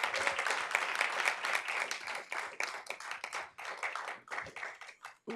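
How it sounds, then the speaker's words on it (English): Attendees at a school board business meeting applaud school staff, a lively round of many hands clapping that stays fairly constant, then tapers with a few scattered claps at the close. "Can we give them all, please, a round of applause?"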